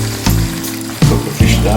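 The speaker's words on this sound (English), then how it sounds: "I'm pouring some liquid in there." Liquid splashes into a pan of frying fish for brown stew, a sizzling hiss that jumps up in three bursts as more is poured, loud and close.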